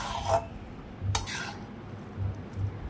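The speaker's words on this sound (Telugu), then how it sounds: "చూసారా ఇలాగ స్లోగా ఫ్రై చేసుకోండి" Cabbage fried slowly in a pan and stirred, with a few clear scraping, clinking strokes of a spoon against the pan over a quiet, low background sizzle.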